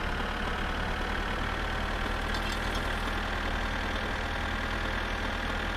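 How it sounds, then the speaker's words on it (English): A tractor engine in the video game My Summer Car runs steadily throughout, a constant loud droning rumble with no breaks and no talk over it. "I am so glad we're in this tractor and not a car."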